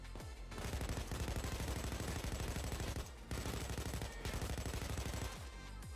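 Sustained automatic gunfire from shooting at cops in the video game PayDay 2, rapid loud bursts with brief pauses between them, filling the whole stretch without talk.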